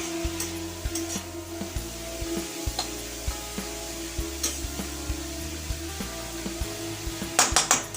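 Carrots frying in ghee in a pan for Bengali gajorer halua, a steady close sizzle with repeated stirring scrapes and a few clinks of the utensil near the end.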